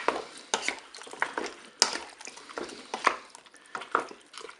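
A pot of pork chops and vegetables with herbes de Provence is stirred in a Cookeo multicooker, giving repeated clinks and scrapes of a utensil against the pot at an irregular rhythm, close by and moderately loud, with no talking.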